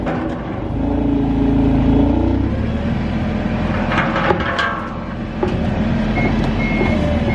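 A truck reversing with a trailer sounds loud, steady reversing beeps over a heavy idling engine rumble. The beeping stays close and continuous with no talk.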